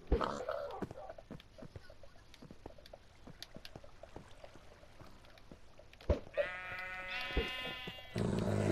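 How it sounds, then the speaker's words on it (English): Blocky sheep in Minecraft give a bleat late on, one clear nasal cry standing out after a stretch of quiet game clicks and background sound, with a short burst of other noise right at the end. "You leave that sheepy alone."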